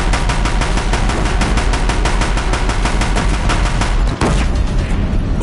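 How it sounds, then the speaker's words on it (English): Deathbringer war machines in Horizon Zero Dawn firing their guns, a loud rapid burst of automatic gunfire in dense rhythmic volleys, close and continuous with a brief break near the end. "If the Deathbringers keep firing, this bridge will go."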